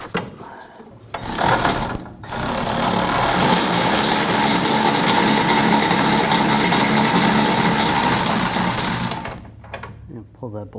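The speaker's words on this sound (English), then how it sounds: "I'm going to use a 21mm wrench and loosen up the bolt." 21mm wrench loosening a rear shock mount bolt on a 2011-2018 Volkswagen Jetta, loud rapid ratcheting and mechanical whirring that runs for about seven seconds after a short burst, then stops.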